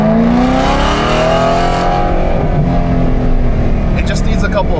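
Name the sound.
BMW M3 engine and exhaust on track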